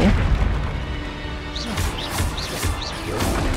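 A Confringo fire spell explodes in the video game Hogwarts Legacy, heard as a loud, dense blast with crashing debris and a series of quick whooshing magical chirps layered over the rumble.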